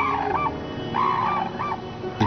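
Cranes in Japan call in a series of honking, trumpeting notes, about four calls spaced irregularly at moderate distance with no talk.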